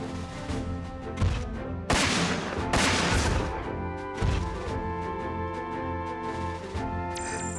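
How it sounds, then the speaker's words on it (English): Shotgun blasts in the mecha game Front Mission 4, several sharp broadband bursts with a longer noisy burst in the middle, set over steady droning game music and tonal effects. "I gotta get this close for a shotgun."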